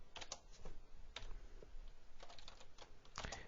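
Computer keyboard keys tapped in quick irregular bursts while HTML code is entered, separated by short pauses, close and moderately loud with no talking.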